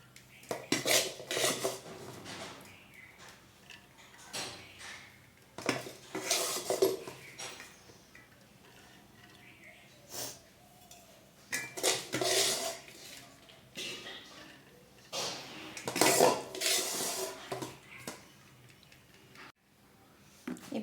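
Biryani rice being layered into a pot at home, with metal utensils clinking and scraping against the pot in scattered bursts, close and fairly quiet, no talk.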